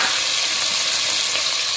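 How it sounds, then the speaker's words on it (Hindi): Potatoes and beans dropped into hot melted ghee for khichdi, a loud, dense, steady sizzle of frying close up that cuts off abruptly at the end. "तो सबसे पहले मैं डाल रहा हूँ आलू और बीन्स को इधर"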